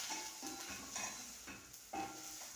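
Silver fish (omena) frying with onions in a little oil, a steady soft sizzle under repeated stirring scrapes and light knocks of the spoon in the pan, close and moderately quiet.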